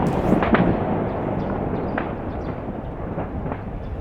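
Distant booms and rumbling thuds of cannon fire during fighting in a city roll over a dull, steady background, several muffled reports spread across a few seconds.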